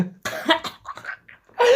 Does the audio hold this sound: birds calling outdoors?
no